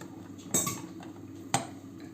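Two spoon clinks against a bowl, about a second apart, while ground walnuts and melted butter are stirred together; quiet, close, with no voices.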